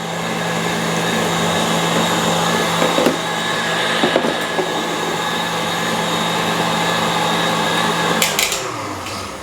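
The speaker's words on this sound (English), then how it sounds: "And I'm gonna stop this mixer, and I wanna show you the French meringue." An electric mixer whipping French meringue for macarons in a bowl: a steady, loud whirring motor drone that runs throughout, with a few faint clinks near the end as it winds down.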